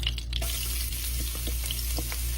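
Garlic frying in hot cooking oil crackles and sizzles steadily in a pan, with a loud continuous hiss over a low hum and a few soft scrapes, and no talking.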